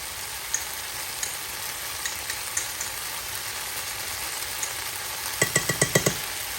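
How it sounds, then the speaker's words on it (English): Soft, steady sizzle of ground beef frying in a pan with faint clinks, then a quick run of five or six sharp taps near the end, no voices. "So while my beef mixture is sizzling away"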